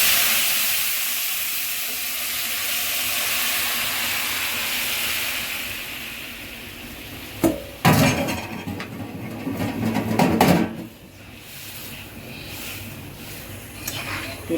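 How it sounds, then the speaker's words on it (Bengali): Lentil and pumpkin dal hits hot oil on a stove turned up to high, giving a loud sustained hiss that fades. Sharp clatters and a renewed burst of sizzling follow midway. "তেলে দিলাম, চুলাটা একটু বাড়িয়ে দিলাম, হাই পাওয়ার দিয়ে দিলাম চুলার।"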